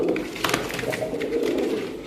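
Domestic pigeons, silver Shapchok and black double-chashma birds, coo in low repeated calls close by, several voices overlapping without talk.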